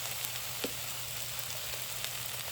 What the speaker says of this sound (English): Adding a pinch of asafetida into that oil.